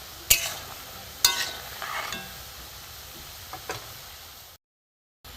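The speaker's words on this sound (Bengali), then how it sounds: "লাল লাল করে ভেজে নিয়েছি কাজু বিস্কুট" Cashew biscuits fry in hot oil with a soft steady sizzle, broken by a few sharp clinks and scrapes of a utensil stirring the pan, then a brief silence at the end.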